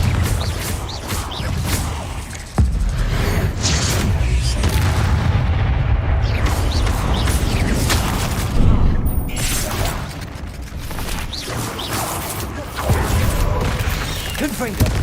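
Fiery spell explosions from Confringo in Hogwarts Legacy boom repeatedly over a dense rumble of combat effects, with a sharp blast early on and continuous loud rolling bursts throughout.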